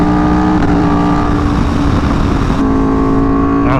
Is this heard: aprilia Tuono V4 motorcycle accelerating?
yes